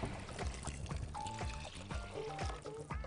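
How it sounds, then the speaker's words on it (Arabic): Water pours steadily into a pot of rice for about three seconds, a continuous splashing stream over a busy backdrop of other tones. "نبتدي ننزل بالميه"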